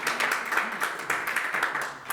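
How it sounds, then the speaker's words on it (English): Steady clapping from a conference crowd, a dense patter of many hands sustained for a couple of seconds. "Round of applause for the room."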